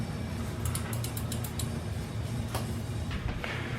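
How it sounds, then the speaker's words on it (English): A screw is driven into the plastic of a Barkbusters hand guard on a Tenere 700 motorcycle, giving a steady mechanical grinding with rapid ratchet-like ticks and creaks throughout, close and moderately loud. "Just threading into plastic."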